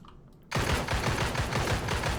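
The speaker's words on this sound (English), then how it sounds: "Bang Boom shoot explosive bullets dealing area damage" Explosive bullets fire in rapid succession in the video game Marvel Heroes Omega, a loud, dense burst of gunfire that starts abruptly after a brief quiet moment and continues steadily, with no talk over it.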